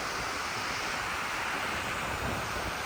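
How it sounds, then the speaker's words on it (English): Crystal Creek Falls in Whiskeytown Recreation Area, California, seen from its upper viewpoint: a steady, unbroken rush of falling water that fills the whole stretch at even loudness, with no voices. "The upper view of Crystal Creek Falls."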